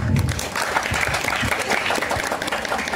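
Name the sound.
audience applause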